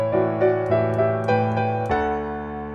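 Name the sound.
piano melody in sixths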